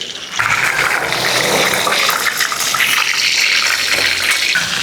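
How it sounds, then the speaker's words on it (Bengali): Prawn pakoras frying in hot oil in a home kitchen, with a steady loud hiss and crackle of spattering oil that runs continuously without pause. "ও মা দেখো কেমন তেল ছিটকাচ্ছে।"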